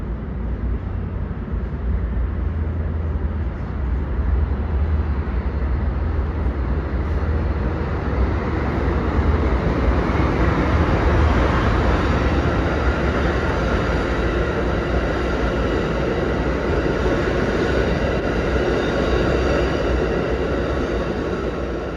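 An Amtrak City of New Orleans passenger train reversing out of Chicago, a loud continuous rumble of rolling wheels and engine noise that holds steady and close throughout, with no voices.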